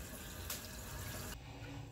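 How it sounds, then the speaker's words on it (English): Cold tap water runs steadily over noodles in a sink, a continuous close splashing stream that keeps going for the whole stretch, with no talking. "So I'm rinsing them with cold water."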